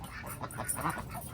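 Black Swedish, blue Swedish, Pekin and Cayuga ducks in a pen give faint, close, uneven honking quacks over about a second.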